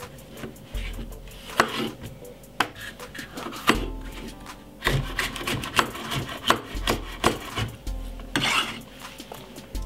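A red pepper is cut on a wooden board. Irregular knife knocks and scraping rubs on the wood sound close by, with occasional clinks of kitchenware.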